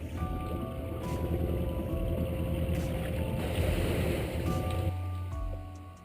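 A sailboat under way at sea on a coastal passage from Cairns toward Fitzroy Island, with steady broadband wash of water and hull motion plus a low engine-like drone, continuous and fairly loud throughout.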